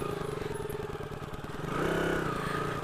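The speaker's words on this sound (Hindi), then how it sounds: "पूरी बाइक स्लिप हो रही है, पीछे वाला टायर बहुत स्किट करता है बहुत ज़्यादा" A motorcycle engine putters unevenly on a snowy mountain road in Spiti as the rear tyre slips and skids, the engine note pulsing and then swelling briefly into a louder rev, with no voices.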